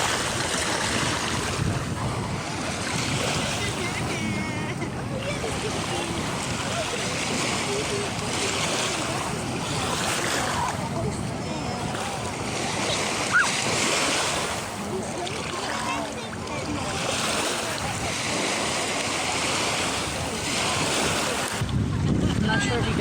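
Ocean surf rolls in at Vanderbilt Beach in Naples, Florida, a steady broadband wash of waves in surging swells, mixed with gusty wind buffeting and faint voices.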